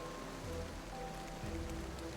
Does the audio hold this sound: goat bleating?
no